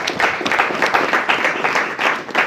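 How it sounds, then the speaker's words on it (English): Studio audience at a television celebration event breaks into dense, steady applause, many hands clapping together at close range for the whole stretch with no voices on top. "I'll urge you all to give yourselves a very big round of applause."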